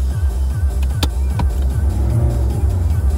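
A car creeping into another space in a car park, its engine a steady, close low rumble heard from inside, with slight throttle swells and no talking.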